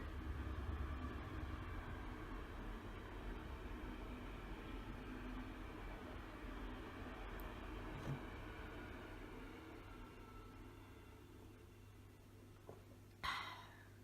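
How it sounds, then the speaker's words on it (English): A faint, steady low rumble of a distant train rolling past, broad noise holding throughout, with a sharp knock near the end. "Of course the train comes when I'm just"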